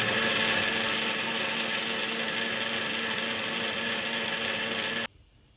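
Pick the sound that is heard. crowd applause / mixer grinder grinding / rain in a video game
mixer grinder grinding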